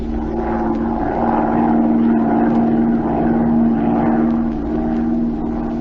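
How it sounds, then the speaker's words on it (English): A propeller plane drones steadily overhead as it circles lazily above a city, a continuous engine hum that swells slightly in the middle and stays constant, with no voices. "Z and Patricia Norwood took off in Z's plane and began to circle lazily over the city"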